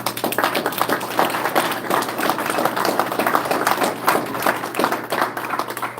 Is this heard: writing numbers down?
no